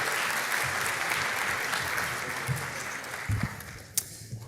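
An audience applauds a finalist team at the ETHGlobal Lisbon hackathon closing ceremony, a broad wash of clapping that holds steady and then thins out toward the end, with a few sharp louder claps near the close.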